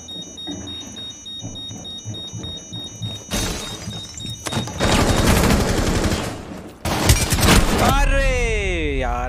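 Shotgun fire in the video game Rainbow Six Siege comes as heavy, loud bursts of blasts amid chaotic game noise, while a player talks throughout.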